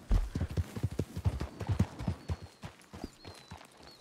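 A horse trots in the video game RedM, and its hooves clip-clop in a steady rhythm that is close and moderately loud, then thins toward the end.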